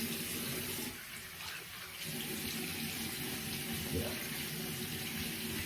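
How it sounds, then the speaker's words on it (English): Water runs from a tap into a sink while a freshly shaved head is rinsed under it. It makes a steady, close splashing rush with a brief dip in the middle, and a voice speaks once. "So, quick head rinse."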